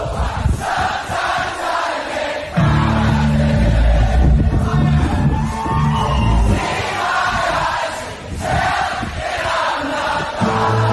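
A large concert crowd at a show in New Zealand, a loud, dense roar of cheering and voices that swells after a few seconds and stays strong throughout.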